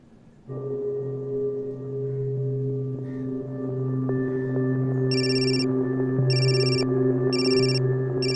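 An electronic telephone ringtone repeats in four short bright bursts over a steady background hum, loud and close in an indoor scene.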